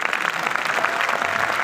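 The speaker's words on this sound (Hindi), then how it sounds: "दो चार लोगों ने ताली बजाई" A few audience members at a poetry gathering clap, a brief, steady patter of hand claps that is fairly loud and close.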